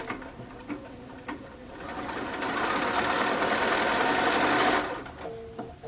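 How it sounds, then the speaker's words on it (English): A sewing machine stitches quilt pieces together, a few light clicks first and then a close, even mechanical whir running for about three seconds before stopping, with faint handling taps around it. "So we'll sew these together."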